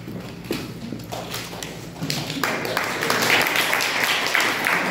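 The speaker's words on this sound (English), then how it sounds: "Give another round of applause" Church congregation applause, starting as scattered claps and swelling into steady, fuller clapping that holds through to the end.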